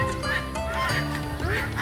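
Geese honk at an animal park in Pamplona, Philippines, with several loud, nasal calls in quick succession close by.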